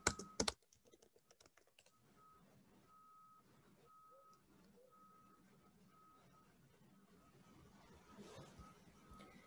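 Rapid clicking of keys typed on a computer keyboard while logging in, starting with a few sharp loud taps, then continuing steadily and quietly, with a faint repeating beep tone in the background.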